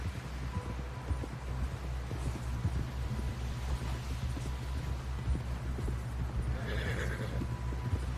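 Horse in the Red Dead Redemption 2 game, with steady hoofbeats and a whinny rising late over a constant low rumble; no voices.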